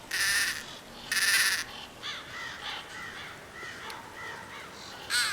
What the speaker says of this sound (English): But those are just birds.